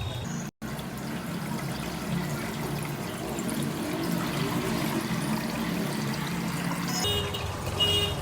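Water poured steadily into a container during a home color-changing experiment, a continuous splashing trickle with a brief dropout near the start.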